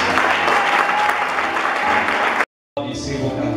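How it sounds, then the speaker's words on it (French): A church congregation applauds loudly, with dense continuous clapping that cuts out abruptly for a moment and then resumes slightly quieter. "J'aimerais qu'on acclame le Seigneur pour tout."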